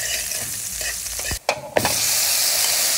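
Garlic sautéing in a hot pan for puchero gives a loud, steady sizzle, broken at mid-clip by a short drop and a couple of sharp spoon scrapes before the frying hiss resumes.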